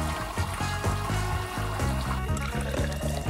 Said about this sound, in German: Und jetzt kann die ganze Flüssigkeit schön abtropfen.